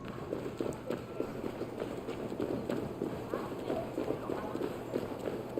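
A horse gallops in Assassin's Creed Valhalla, a steady rapid clip-clop of hooves running continuously at close range under a low game background.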